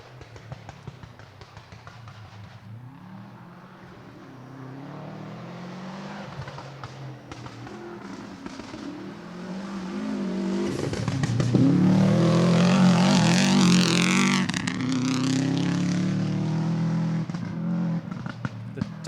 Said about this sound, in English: It's got that real boxer sound that we've sort of come used to from old, 20 years ago rallies.